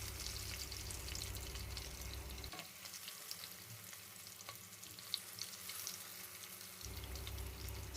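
Chopped garlic frying in a pan for a cauliflower and tilapia fish curry, a steady close sizzle and crackle with soft stirring, the low rumble beneath dropping away midway then returning.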